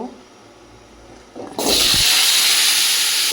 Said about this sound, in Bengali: দিয়ে আমি আলুটা ভেজে নেব